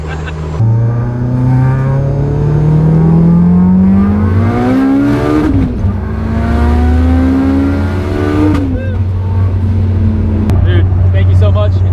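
A 940-horsepower all-wheel-drive Eagle Talon running 50 psi of boost accelerates hard, its engine note climbing through two long gear pulls with a shift break between them. The sound is loud and close from inside the cabin, and a voice talks over part of it.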